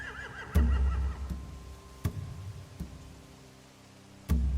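Horses whinny in a Walking Dead Telltale video game scene, a faint high neigh near the start over a low ambient bed, with several soft thuds like hooves or movement scattered across the quiet stretch.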